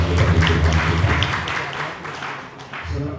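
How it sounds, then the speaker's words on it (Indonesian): Church congregation applauding during a worship service, a dense spread of clapping filling the space, mixed with voices and a low hum throughout. "Kita berikan tepuk tangan sekali kita berikan kita."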